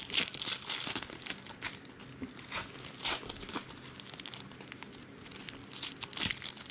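Foil trading card packs of 2019 Diamond Kings baseball cards are ripped open and crinkled close up, giving a run of sharp crackling tears and rustling bursts in quick irregular succession.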